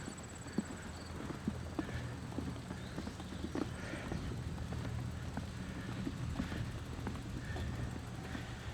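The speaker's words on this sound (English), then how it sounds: "There we have a horse carriage." Hooves of a horse pulling a carriage clip-clop in a steady, faint, distant rhythm, heard outdoors under a constant low background rumble with no talking.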